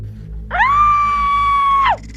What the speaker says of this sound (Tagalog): tili, hindi sigaw